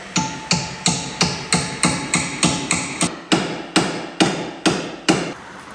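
Hammering a body panel on a crashed 2024 Land Rover Discovery back into shape, about fourteen loud, evenly spaced metallic blows ringing close by, with a brief hitch in the rhythm midway; no one speaks.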